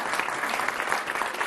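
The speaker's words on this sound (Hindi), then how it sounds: "इस सवाल पे ताली बजनी चाहिए थी।" A television debate studio audience claps in a brisk, even burst of applause, moderately loud and continuous for about a second and a half.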